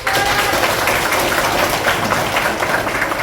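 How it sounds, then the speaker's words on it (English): Students in a school hall clapping their hands together, a dense, loud, continuous burst of applause with no clear gaps. "You can clap hands."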